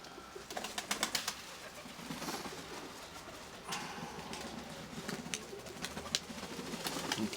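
Pigeons cooing on a windy, rainy day in a loft, soft repeated low coos with occasional wing flaps and rain pattering, fairly faint and without talk.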